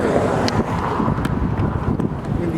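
Wind buffets the microphone on a gusty day, a loud rough rush with uneven bursts and a few sharp knocks, with no speech over it.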